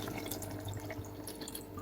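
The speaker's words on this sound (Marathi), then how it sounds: "आता यामध्ये मी एक ग्लास पाणी टाकून घेत आहे" Faint splashing and trickling of water being poured into a pan of cooking vegetables, brief and quiet with a low background hum.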